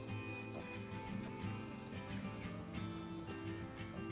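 Soft clip-clop of a horse shifting its hooves while being trained, faint and irregular under a busy outdoor background with insects and birds, no talk heard.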